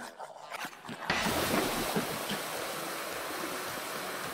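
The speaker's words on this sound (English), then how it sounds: "Aha, water is increasing again." Water gushes steadily into a flooded bathroom in the video game I Am Fish, starting abruptly after a quieter moment and continuing as a broad, even rushing flow with no voices over it.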